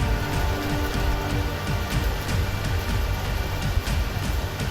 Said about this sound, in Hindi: गुजरात के अधिकतर इलाकों में झमाझम बारिश हो रही है